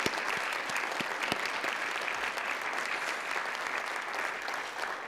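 Steady applause from an audience at a civic center anniversary party, a dense, even wash of many hands clapping at moderate distance, with a few sharper individual claps near the start.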